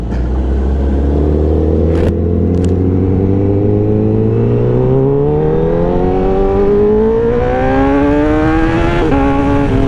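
A 2020 Honda CBR1000RR Fireblade motorcycle engine roars close and loud on a ride, its pitch climbing steadily through the gears in a long continuous rev with a brief shift dip near the end, no talk.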